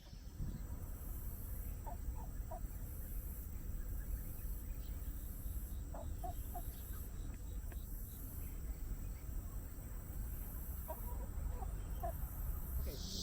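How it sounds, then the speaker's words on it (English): A flock of chickens clucks beyond green plants near a spring with cattails in a garden. Faint, scattered clucks come in short bursts under a loud, steady outdoor hiss. "there's a whole flock of chickens"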